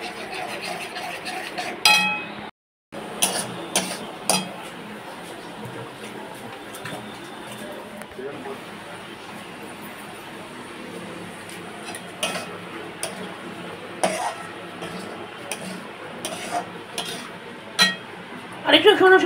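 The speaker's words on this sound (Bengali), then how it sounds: "এখানে মশলা কুটে নিচ্ছি, একটা মশলা পেস্ট করে নিচ্ছি" Spices being pounded into a paste for a lote fish dish: sharp, irregular knocks and clinks of a pestle or grinding tool sound close, scattered over several seconds with quieter scraping between them.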